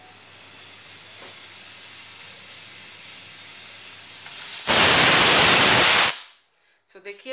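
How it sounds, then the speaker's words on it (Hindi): A small 1.5-litre Hawkins pressure cooker on a gas stove lets out a loud rushing steam whistle, a steady hiss that swells and holds for a second or two before cutting off abruptly. "देखिए फर्स्ट व्हिसल हो गया"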